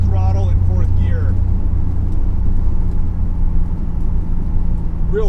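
Toyota 5M-GE engine with L-Jetronic fuel injection cruising at steady light throttle in fourth gear, a constant low drone and road rumble inside the car, with talk over it.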